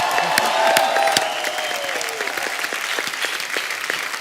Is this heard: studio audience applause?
yes